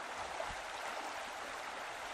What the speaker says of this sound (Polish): Rzeka meandruje.